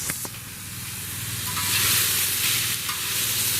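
Asian carp fajitas sizzle loudly on a large disc cooker heated by a propane cylinder, a steady close hiss of frying with a few stirring clinks near the start.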